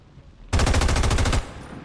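Gunfire at a robot in a tactical video game: a single sustained burst of rapid automatic fire lasting under a second, loud and close, cutting off abruptly into quiet background.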